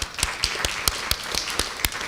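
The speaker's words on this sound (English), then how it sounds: "please give a big round of applause" Audience applause at a Cleveland music industry conversation event, with steady, fairly crisp claps about four per second standing out over a softer continuous wash of clapping, moderately loud and close, with no talking.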